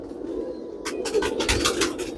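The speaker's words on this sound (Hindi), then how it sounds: "मेल फीमेल दोनों भी काफ़ी स्ट्रॉन्ग कबूतर हैं।" Low, soft cooing from a male and female pair of Kamanger pigeons hums steadily close by, with scratchy rustles and light flapping noises breaking in over it.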